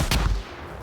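A flashbang grenade goes off in the Predator: Hunting Grounds video game, a single loud, sharp burst that rings briefly before fading into quieter game ambience.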